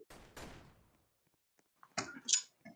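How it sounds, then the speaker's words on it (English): Artillery cannons fire in a war strategy video game: two separate booming blasts, one near the start and another after a short quiet gap, each decaying quickly. "they're using artillery. They're aiming cannons at me."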